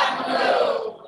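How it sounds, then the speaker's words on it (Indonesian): An audience applauding during a live-streamed meeting, a short dense burst of clapping and cheering that fades out within about a second. "Tepuk tangannya seru banget."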